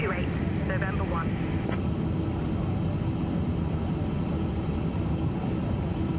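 Airbus A350-1000 taxiing in a flight simulator game, a steady, loud engine rumble and hum running throughout, with radio-style talk over it early on.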